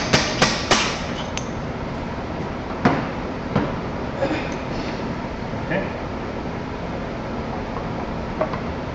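Sharp metallic taps of a knockout bar on a wood lathe while setting up to turn a goblet, a few clustered knocks at the start and scattered single taps later over a steady shop hum.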